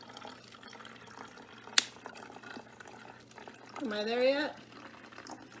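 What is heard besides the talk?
water being poured into a bottle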